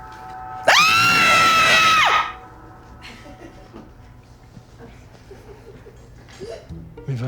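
A woman lets out a loud, sustained scream lasting about a second and a half during a heated French-language acted argument, followed by quieter background noise.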